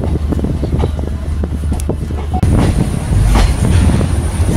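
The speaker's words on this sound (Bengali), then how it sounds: "আমাদের ট্রেনটা একদম সঠিক টাইমে কলকাতা স্টেশন ছেড়েছে, ঠিক 6:50।" A passenger train pulling out of Kolkata station, bound for Murshidabad, rumbles steadily close by with low wheel and carriage noise, a faint squeal, and a louder surge of rolling clatter partway through, with no talking.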